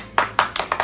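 Several sharp hand claps, close and fairly loud, starting slow and then quickening into a quicker run of claps.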